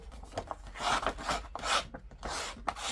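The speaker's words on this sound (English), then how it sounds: "I'm going to scuff up the sides with my scuffy uppy bitty thing" Rough rasping and rubbing strokes as a tool scuffs the sides of a model layout, several close, uneven bursts with brief pauses between them and no talking.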